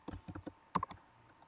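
Light clicks of keys as short text is typed on a computer keyboard, a quick burst of a few taps followed by a pause, close and quiet with no talking.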